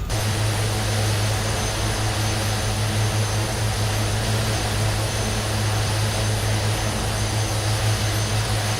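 A Twin Otter propeller plane's engines drone loudly and steadily in Flight Simulator 2020, a dense unbroken roar with a low hum, close and alone throughout.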